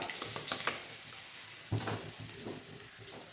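Ground coconut paste hits hot coconut oil in a pan and sizzles loudly, with a steady hiss broken by a few stirring scrapes and a clunk against the pan.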